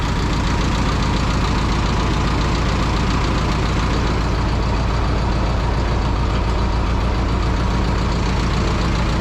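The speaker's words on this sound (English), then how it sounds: "for a little 4-banger, these little Continentals sure do run smooth" An Oliver 440 tractor's small Continental four-cylinder engine runs in a loud, steady, smooth idle, close up and continuous throughout with no talking.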